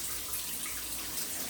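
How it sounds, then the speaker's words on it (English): Warm water runs from a hotel shower at a Holiday Inn Express in Voorhees, New Jersey, a steady, even hiss of spray and splashing throughout, fairly quiet and alone with no talk. "Got warm water out of there too."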